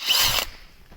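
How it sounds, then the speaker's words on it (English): Power drill boring into a fuel pump housing from a Vauxhall Vectra 2.2 Direct Z22YH to loosen a stuck bearing: a loud, close, high whine for about half a second, then cutting off into quiet mechanical rattle. "we can drill into it and open that up a bit so the bearing will fall out easier"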